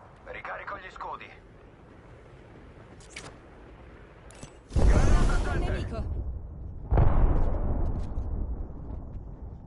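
Gunfire and a thermite grenade blast from a PS5 shooter game: a few short sharp shots early, then two loud, roaring bursts that swell and linger, with someone talking in between.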